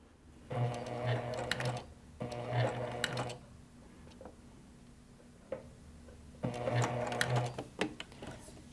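Sewing machine stitching a strap and body piece on a bag, backstitching a few stitches, three short whirring runs of rapid mechanical clatter separated by quiet pauses with small clicks, close and moderately soft.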